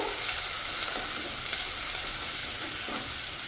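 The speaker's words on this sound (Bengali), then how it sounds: "এখন দিয়ে দেবো বেশ কিছুটা ছাড়ানো চিংড়ি মাছ। চিংড়ি মাছটাকেও ভেজে নেব।" Peeled shrimp tossed into a pan of nearly fried onion and garlic for a winter spinach vegetable dish, giving a steady, even sizzle and hiss throughout with no voices.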